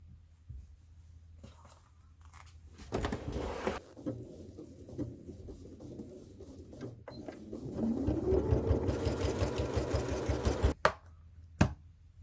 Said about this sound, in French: Et vous allez coudre juste ici là.